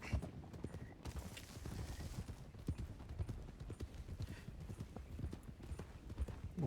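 Horse hooves clip-clop steadily across a wooden bridge in the RedM game, an even rhythm of hollow knocks at moderate distance under faint background sound.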